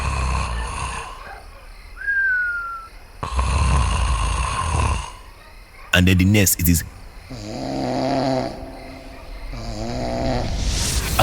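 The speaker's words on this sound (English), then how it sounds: "he snores like a generator with bad feel. Loud, shaky, and unpredictable" A man snoring loudly, harsh shaky snorts that swell and fade unpredictably like a rough-running generator, with a voice talking between and over the snores.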